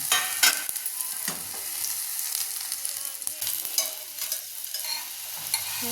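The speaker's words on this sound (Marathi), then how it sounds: "वड्या आपल्या भाजत आल्यात" Alu vadi, colocasia leaf rolls flavoured with green chilli, shallow-frying in a pan with a steady bright sizzle and occasional stirring scrapes. The sound is close and continuous, with no talk.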